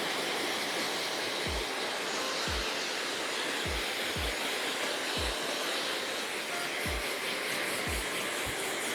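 A hair dryer blowing hair dry, a loud continuous roaring rush of air with regular low thumps as it sweeps back and forth, steady throughout with no talk.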